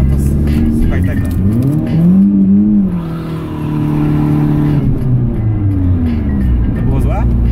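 A car engine revs loudly nearby, its pitch rising and falling through several surges, with people talking over it.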